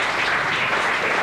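Loud, dense applause fills a church gathering as the congregation claps for the Lord, steady and sustained throughout with no talk over it.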